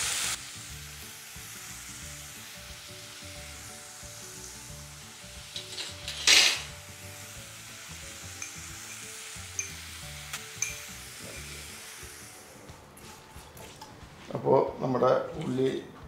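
Onions sautéing in a pan for a yogurt masala curry give a soft, steady sizzle, with occasional stirring scrapes and utensil clinks, under intermittent talk.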